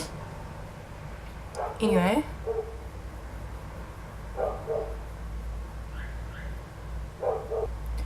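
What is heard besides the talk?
dogs barking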